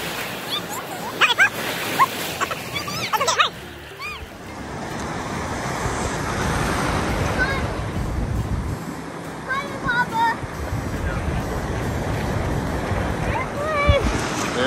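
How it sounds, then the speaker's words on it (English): Ocean surf at Malaekahana Beach, Hawaii, rushing steadily with waves washing in, while a dog barks and whimpers and people talk in the first few seconds. "There we go, big waves."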